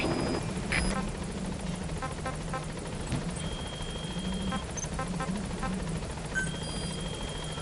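The Pequod helicopter in Metal Gear Solid V: The Phantom Pain drones in on approach, a steady rotor chop and whine with faint beeps and game effects over it.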